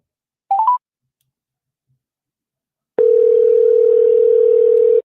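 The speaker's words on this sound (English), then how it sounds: "I'm going to call you back." A telephone call-back begins with three quick, rising keypad beeps, a short silence, and then a loud, steady dial tone that holds unbroken for about two seconds.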